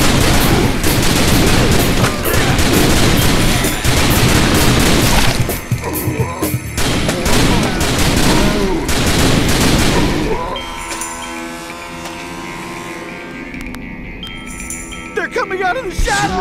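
Dense gunfire from the arcade zombie shooter The Typing of the Dead: Overkill, a loud continuous barrage of shots and crashes for about ten seconds, then thinner game effects and music with occasional bursts.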